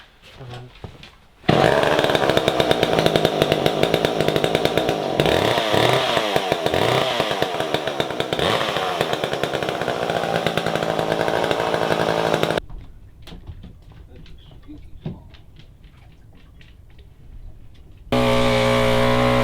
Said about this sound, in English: Mike seems to like his new chainsaw.